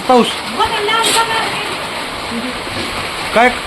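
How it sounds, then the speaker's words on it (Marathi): Steady, dense hiss of heavy rain pouring down throughout, with voices talking over it at moments. "किती पाऊस मोठा गट चालू है"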